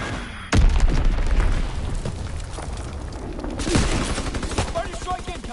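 A loud bomb blast hits suddenly in a World War 2 multiplayer shooter, followed by rattling gunfire and another heavy boom, all under a busy battle din with faint voice callouts.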